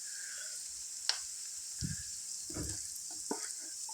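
Ginger-garlic paste frying in a pan while an egg curry cooks, a steady quiet sizzle with a few spoon scrapes and soft clatters, close by and without talk.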